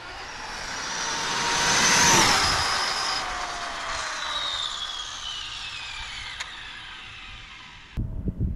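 Overvolted brushless RC car making a speed pass: a high-pitched motor whine rises as it approaches, peaks loudly and then falls away with a Doppler drop, followed by a brief clatter near the end.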